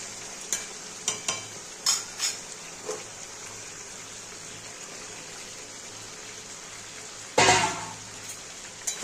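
Chicken and potato pieces are turned in a pan for a Bengali chicken kosha curry: a low background sizzle broken by several sharp clanks and scrapes of the spatula, with one louder, longer scrape near the end.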